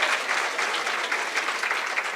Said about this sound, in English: We can still give them another round of applause